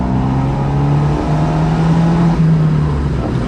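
An Abarth Monza exhaust drones steadily at close range, holding a low tone with a small shift in pitch partway through, loud and continuous with no talking.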